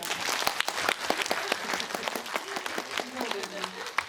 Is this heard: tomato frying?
no